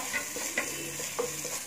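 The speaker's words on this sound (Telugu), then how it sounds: "ఇప్పుడు పనీర్ వేసి ఫ్రై చేసుకుందాం" Paneer fries with carrot and onions in a pan, giving a quiet sizzle broken by a few sharp scrapes of stirring. No one speaks.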